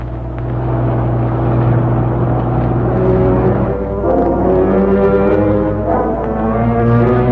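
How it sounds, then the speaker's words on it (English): A car engine in a radio drama hums and rumbles steadily throughout, with a low droning tone that shifts pitch slightly as it runs, close and fairly loud with no talk over it. "There's a car."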